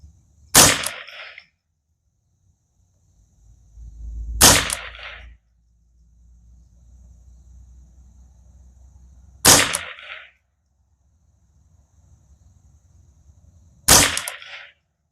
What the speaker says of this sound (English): Now we'll just keep shooting right there